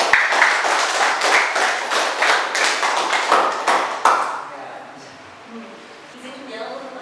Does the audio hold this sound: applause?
yes